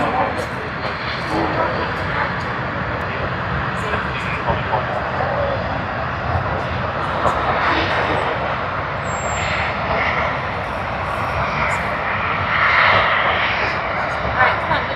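QantasLink aircraft at Sydney Airport, a continuous engine roar of moderate loudness that swells and eases slightly, with a voice speaking over it at times.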